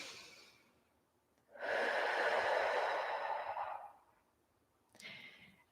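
A deep, slow breath after an exercise set, one long loud exhale through the middle followed by a shorter, softer breath, close up and alone.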